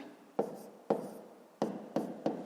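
Pen strokes scratch on paper while a math solution is written out, five short crisp scrapes in an uneven rhythm, close and quiet.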